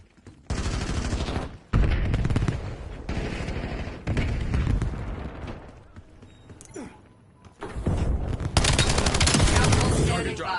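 Video game gunfire rattles out in loud, close bursts of rapid shots separated by short pauses, with a longer lull in the middle before a heavy final volley.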